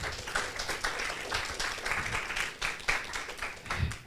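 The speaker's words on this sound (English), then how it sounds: "Give applause, please." Audience applauding after a medical lecture on corneal transplantation, dense sustained clapping from a large crowd, fairly loud and even throughout with no talk over it.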